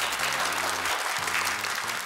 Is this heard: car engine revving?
no